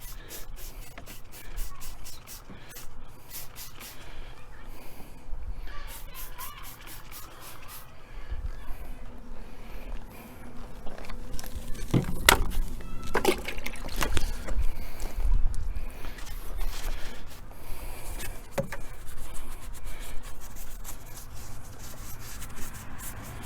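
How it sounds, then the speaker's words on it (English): Repeated boar's hair brush scrubbing soapy engine cleaner in an Audi S4 engine bay, rough rubbing strokes in an uneven rhythm, close up, with a few knocks midway. "we just finished agitating a bunch of the soapy water in there with the boar's hair brush"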